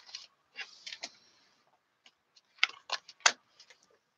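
Tarot cards being shuffled during a reading, a series of short papery riffles and flicks in separate bursts with brief pauses, close and quiet.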